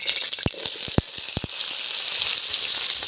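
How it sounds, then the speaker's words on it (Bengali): Salt tossed into hot oil in a kadai crackles with a few sharp pops, then settles into a steady, fairly loud sizzle that continues to the end. "কড়াই তেল দিয়ে দিলাম, নুনগুলো দিয়ে দিচ্ছি তেলে"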